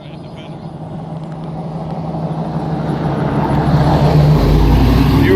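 A rough but running 1960 Chevy Biscayne rolls off a trailer, its low engine rumble building steadily and growing louder and closer over a few seconds.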